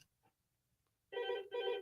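A telephone rings in a radio studio, two loud electronic bursts with a short gap between them after a stretch of near silence.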